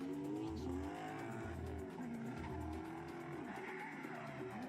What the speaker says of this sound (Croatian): A ovo nam je naš fake drift taksi Erik Janković.